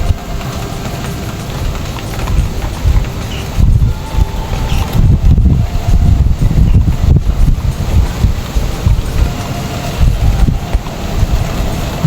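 Strong gusty wind roars across an open rice field, buffeting the microphone with a dense low rumble that swells and eases throughout, with no voices.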